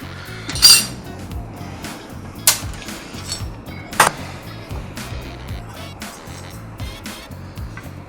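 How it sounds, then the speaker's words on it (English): Small ratchet loosening disc brake rotor bolts on a bicycle, with sharp metallic clicks and a few louder clinks scattered over quiet handling noise. "So I'm basically just loosening these rotor bolts off. I'm using a little ratchet to do it"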